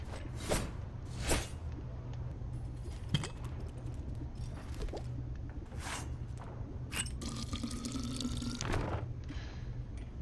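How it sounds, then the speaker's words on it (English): Water being drawn as a tabletop game effect: scattered drips and splashes with a running tap near the end, fairly quiet over a steady low hum. "Fresh drawn water."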